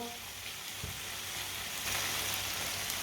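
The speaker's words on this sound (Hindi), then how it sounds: "अच्छी तरह मैंने मिक्स किया है आलूओं को।" Potatoes are stirred in a cooking pan for a simple sabzi, a soft steady sizzle with faint scraping and a light clatter of the spoon, quiet and continuous with no talking.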